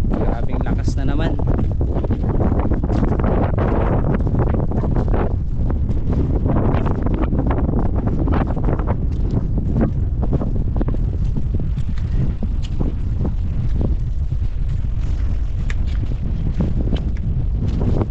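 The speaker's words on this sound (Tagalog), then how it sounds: "Grabe yung amihan." Strong amihan monsoon wind buffeting the microphone near a boat at sea, a constant loud low roar and rumble throughout, with a voice speaking under it.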